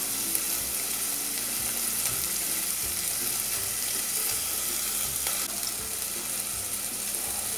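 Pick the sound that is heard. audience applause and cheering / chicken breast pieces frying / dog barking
chicken breast pieces frying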